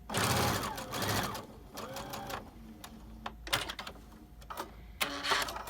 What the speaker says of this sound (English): I'm gonna sew my little V's